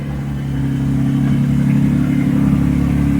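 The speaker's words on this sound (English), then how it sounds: "Start your engines." Several car engines rumble steadily at idle, the low drone swelling slightly as they rev, loud and close with no talking; cars starting before a drive on Highway 9.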